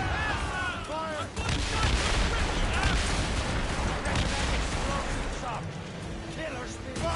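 Musket and cannon volleys fired on command in Assassin's Creed Rogue, a dense battle din of overlapping gunshots and booming cannon blasts, with a loud crackling roar and shouted voices throughout.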